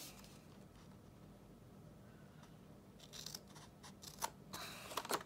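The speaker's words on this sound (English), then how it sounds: "we're gonna take our detail scissors and we're gonna snip into the score line on the long side" Small detail scissors snip into a cardboard score line for a desktop fish tank craft, several crisp, close cuts clustered in the second half after a quiet stretch.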